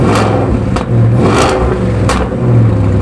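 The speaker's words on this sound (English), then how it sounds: "They're actually Shelby Borla exhausts, and they sound insane." A Shelby Super Snake's engine revs hard and close, its Shelby Borla exhaust roaring and rising in pitch in repeated loud surges.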